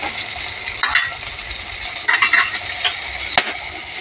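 Red lentils are sautéed with tomato and chillies in a pan, giving a close, steady sizzle with bursts of spatula stirring and scraping.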